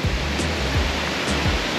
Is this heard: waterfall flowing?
yes